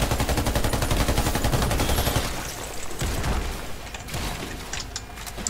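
An AK-47 Gold assault rifle fires in a close, loud, rapid automatic burst during Warface gameplay. Thinner, scattered game sounds follow, and no one speaks.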